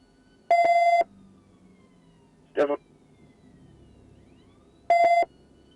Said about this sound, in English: Take your siren off up there.